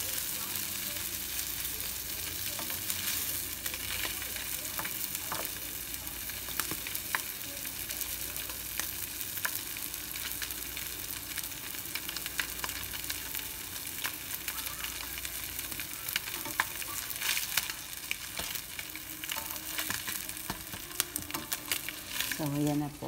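A pancake fries in a pan with a steady, close sizzle that holds for over twenty seconds, broken by occasional small clinks and scrapes.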